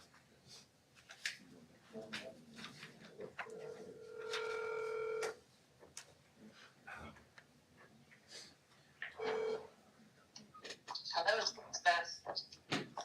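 A telephone dials out during a county solid waste disposal commission meeting: scattered keypad beeps, then a long steady ring tone and a shorter second ring, with room voices and handling noise around them.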